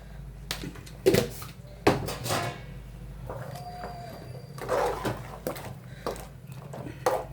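A pressure cooker lid is fitted and closed over mutton biryani: a few sharp metallic clanks and scrapes come close by, separated by quiet gaps.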